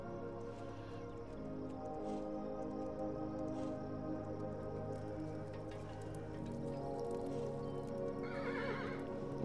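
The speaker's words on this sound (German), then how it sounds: "Ach, Pferd." Horse in the video game Kingdom Two Crowns gives a clear neigh and whinny over steady clip-clopping hooves, with soft dripping game ambience and no talk.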